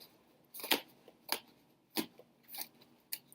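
Matte-finish tarot cards from a La Corte Dei Tarocchi deck being shuffled by hand, heard as five or six short, crisp riffling bursts spaced about half a second apart, close and fairly quiet with no talking.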